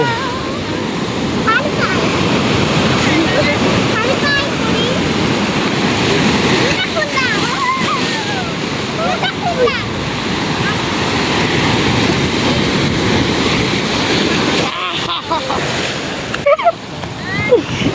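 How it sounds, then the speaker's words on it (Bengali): Sea waves roar onto Kuakata beach in a loud, continuous wash with wind buffeting the microphone, while people talk faintly nearby. "আর সমুদ্রের গর্জনটা শুনেন।"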